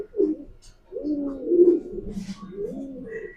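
Soft, throaty cooing from pigeons close by, several low rolling calls in succession with brief pauses between them.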